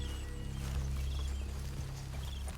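Horses' hooves in Red Dead Redemption II, a steady clip-clop of several horses walking over ground, soft and low, with a faint whinny amid quiet ambience.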